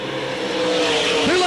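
Race cars roaring around Port Royal Speedway at the 1986 season opener, a loud continuous engine howl close by with a pitch shift as a car sweeps past near the end, under an announcer's voice.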